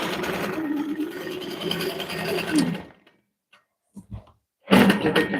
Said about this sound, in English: So I'm going to stitch up the ditch here.